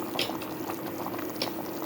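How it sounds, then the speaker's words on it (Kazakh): A pot of chickpeas at a steady boil for carrot pilaf, soft continuous bubbling and gurgling close by with no talk. "Қазір екеуі бір қайнап жіберсін, сосын ноқаттары қайнады."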